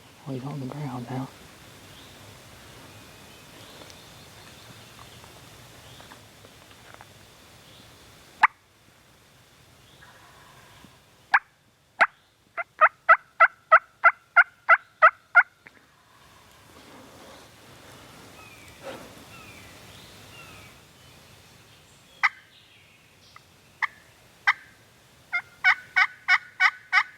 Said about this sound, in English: It might be one that's just double gobbling, but we got turkey.